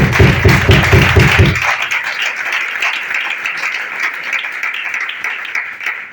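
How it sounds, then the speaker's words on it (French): A church congregation claps and cheers in praise of the Lord: loud rhythmic clapping at first, then dense sustained applause filling the hall. "Est-ce qu'on peut acclamer le Seigneur? On peut acclamer le Seigneur."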